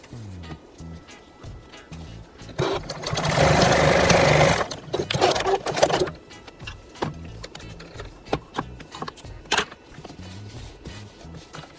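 Sewing machine top-stitching denim patchwork, a short burst of fast mechanical whirring lasting about three seconds, surrounded by quieter handling clicks and knocks.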